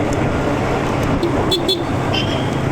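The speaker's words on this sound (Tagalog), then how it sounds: "Traffic sa palengke" Road traffic crawls past a busy market, a continuous engine rumble with a few brief horn toots standing out near the end, close and fairly loud.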